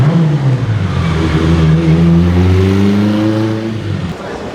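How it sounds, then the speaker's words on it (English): A chrome red Bentley Flying Spur on a London street drives close past with a loud engine note that climbs steadily in pitch as it accelerates, then eases off as it moves away. "Chrome red flying spur."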